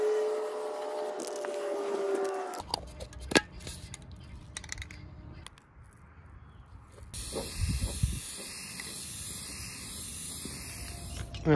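Self-etching primer sprayed from an aerosol can while prepping a bowfishing boat's console and floor, a steady close hiss in bursts, with short pauses, clicks and handling noise between sprays.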